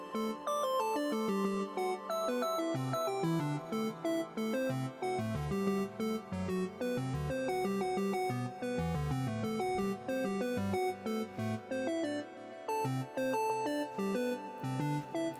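Dense random synth notes from a particle-style plugin at a set density, pitch, speed and spread, scattering quick tones across a key at a steady moderate level, with no voices.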